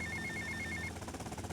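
A telephone trills in the GTA Vice City video game, a bright repeating electronic ring pulsing steadily for most of a second before cutting off, set against dense in-game background noise.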